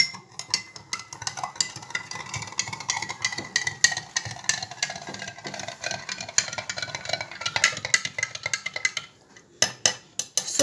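Salt being stirred into water in a container, a rapid run of clinking, scraping spoon strokes against the vessel, close and busy, pausing briefly near the end with no talk.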